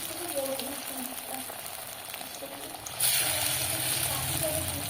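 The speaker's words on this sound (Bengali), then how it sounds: "তেলটা গরম হয়ে গেছে, এবার বড়ার আকারে করে এক একটা করে তেলের ওপরে দিয়ে দেব।" Pointed gourd leaf fritters frying in hot oil, a dense continuous sizzle that grows louder partway through as batter drops in, heard close with a faint background hum.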